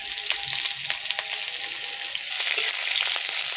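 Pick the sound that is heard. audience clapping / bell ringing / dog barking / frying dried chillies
frying dried chillies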